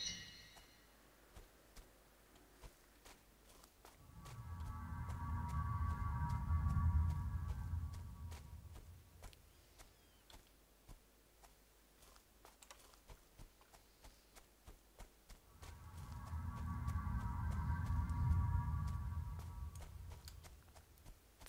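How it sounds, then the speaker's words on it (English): Low droning hum in the Betrayer video game, swelling in two long waves that rise, peak and fade roughly ten seconds apart, with faint ticking and scattered clicks in between and no talk. "do you hear that humming?"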